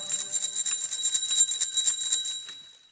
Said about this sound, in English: But when I rang my bell to try it out and see,